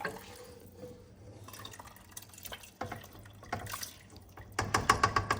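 Broth is poured from a pot into a container and splashes and trickles faintly and unevenly. A louder series of liquid drips and gurgles comes at the end.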